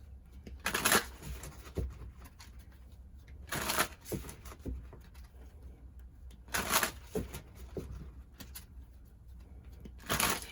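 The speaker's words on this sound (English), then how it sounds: "let's pull 3 cards from the mediumship cards, talking to heaven" Mediumship oracle cards shuffled and pulled: three bursts of riffling card shuffles spaced a few seconds apart, close and moderately loud, with soft handling taps between, no talking.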